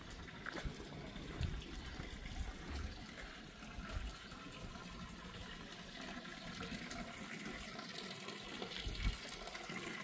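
Drinkable spring water pouring from a spring fountain in Switzerland, a continuous splashing gush heard steadily throughout with faint outdoor background.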